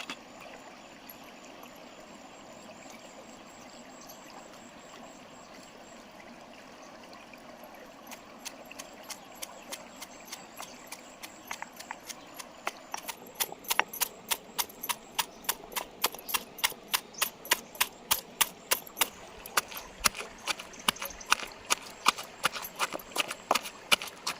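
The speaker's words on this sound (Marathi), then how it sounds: "तर इकडे खलबत्त्यामध्ये आपण डेंगे वाटून घेऊया छोट्या डेंग्या ज्या आहेत त्या वाटून घेऊया" Small crab claws pounded in a stone mortar and pestle while making a Konkani crab curry; after a quiet stretch, steady close thuds start and build into a regular, sharp pounding rhythm.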